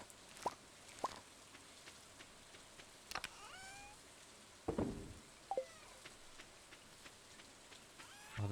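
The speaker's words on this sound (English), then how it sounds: "Oh, the sound of rain on a tin roof." Rain pattering on a tin roof in the Stardew Valley farming game, a quiet steady wash broken by scattered drips and plops, with a few louder splashy hits near the middle and end.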